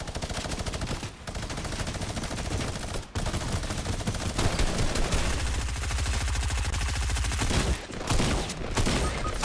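Dense, continuous video game gunfire in a two-player team match, loud rapid bursts of automatic weapons and shotgun blasts overlapping almost without pause.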